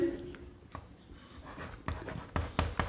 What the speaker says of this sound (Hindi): तो लिख लेते हैं यूनिट सेल